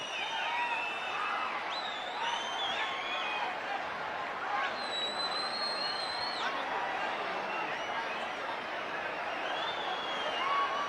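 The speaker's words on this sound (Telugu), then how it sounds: "గట్టిగా చప్పట్లు." Applause and cheering from a crowd at a government ceremony where the Chief Minister hands a mega cheque to women at a primary health centre, steady and moderately loud, with voices and whoops mixed in.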